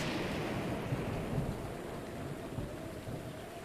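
Steady rainfall in the video game Zelda: Breath of the Wild hisses continuously with a low rolling rumble of thunder underneath, no voices present.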